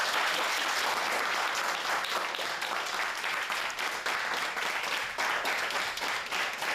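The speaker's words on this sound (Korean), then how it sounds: "박수!" Students clap together at the close of a children's Arduino coding class, a dense, continuous round of applause that stays even throughout.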